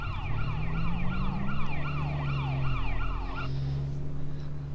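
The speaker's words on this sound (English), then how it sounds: "Yo, look at the siren!" A police car siren wails in the Darkest Days video game, a rapid up-and-down electronic whoop repeating steadily over a low engine hum before cutting off.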